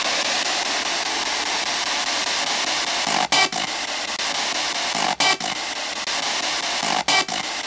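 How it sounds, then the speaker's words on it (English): Harsh, continuous radio static from a spirit box rapidly scanning radio frequencies in Borley Churchyard, broken by three brief sharp dropouts, loud and close with no voices. "a spirit box, which scans through radio frequencies extremely quickly"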